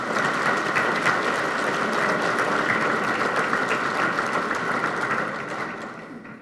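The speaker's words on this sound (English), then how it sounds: "Let's give them all a round of applause." A large banquet audience at a crime-lines dinner and police awards ceremony applauds loudly and steadily, the dense clapping holding for several seconds before beginning to taper off.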